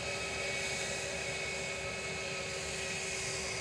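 An 18-year-old Lauda airliner at Edinburgh Airport gives off a steady, unbroken engine roar with a faint whine on top, holding an even, fairly loud level throughout.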